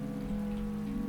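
Steady rain falling in the Roblox Jailbreak video game, a continuous even wash alongside a low droning hum, with no talking.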